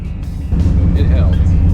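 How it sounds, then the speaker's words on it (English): A Chevrolet C10 truck engine fitted with a Holley 4150 carburetor cruises under light load, a low steady rumble that swells slightly partway through, with a voice talking over it. "It drops down, but the engine's barely working at this speed."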